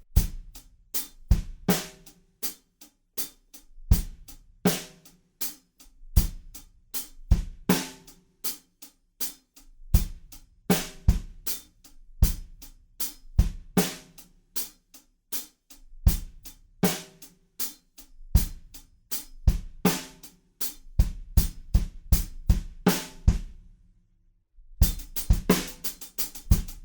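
Drum kit playing the groove from a song with fast 16th-note hi-hats, punchy kick and snare hits in a steady loop, close and loud, a short silent break near the end before the beat resumes.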